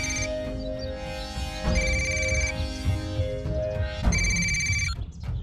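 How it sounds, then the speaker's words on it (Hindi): A telephone ringtone plays on an outgoing call, with repeated bursts of tonal ringing that start and stop in a steady pattern, moderately loud over faint background noise. "भाई, घंटी जा रही है।"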